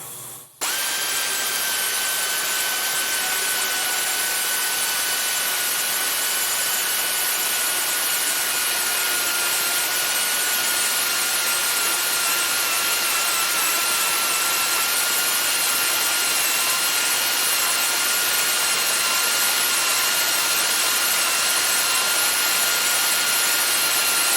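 A rotary tool grinds and ports the inside of an intake manifold, a steady high-pitched whine that holds constant and loud for the whole stretch, with no talking.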